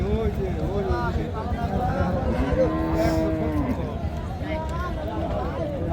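Cattle moo repeatedly at a crowded cow market in Nakla, Sherpur, with several long, drawn-out calls overlapping one another against a steady murmur of voices and market bustle.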